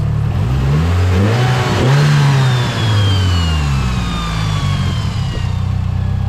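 A Mitsubishi Evo 8 engine, a car with a history of problems, revs loudly up close, its pitch rising and falling through a few throttle blips over a steady idle with no voices.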